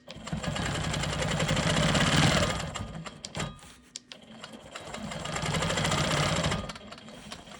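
A sewing machine quilts the top of a rolling stone block in two long, loud, close runs, with a brief stop and a few clicks between them before the motor whirs up again.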